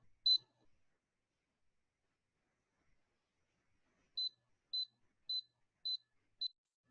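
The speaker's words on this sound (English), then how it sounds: "you can hear the little beep" Six short, high electronic beeps from the small speaker on an Adafruit Clue board: one isolated beep, a pause, then five evenly spaced beeps in quick succession, clean and alone in a quiet room.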